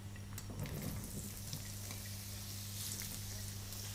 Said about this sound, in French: Dans une poêle chaude, versez un filet d'huile d'olive et ajoutez les courgettes.